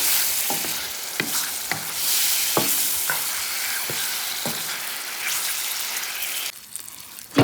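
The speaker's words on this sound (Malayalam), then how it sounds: "ഈ ചിക്കൻ ഈ മസാലയെ നമുക്കൊന്ന് നന്നായിട്ടൊന്ന് വഴറ്റിയെടുക്കാം." Chicken is sautéed and stirred through masala in a hot pan for a Kerala chicken perattu, with a steady sizzle and repeated scraping strokes of the spoon, close and fairly loud, with no talking.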